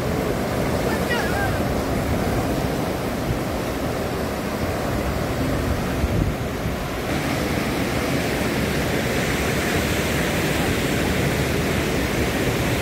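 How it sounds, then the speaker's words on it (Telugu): Strong, forceful ocean waves surge onto a beach in Sri Lanka, a loud, continuous roar of surf and wash filling the whole stretch without clear breaks. "ఇక్కడ చాలా స్ట్రాంగ్ వేవ్స్ ఉన్న అలలు వస్తాయి, చాలా ఫోర్స్గా వస్తాయి"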